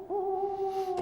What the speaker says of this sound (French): C'est un hibou qui ulule.